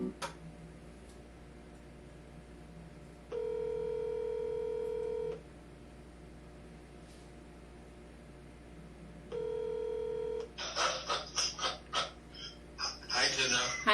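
Phone dialing tones at a desk, two separate bursts of steady dual-tone beeps each lasting about two seconds, followed by clicks and rustling handling noises, with faint voices in the background.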